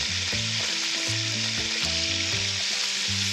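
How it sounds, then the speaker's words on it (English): Two pounds of small-cut sirloin steak browns in hot bacon fat for a beefy stew, giving a loud, steady, unbroken sizzle beneath a bouncy musical backing. "See how fast it's gonna brown in that bacon fat?"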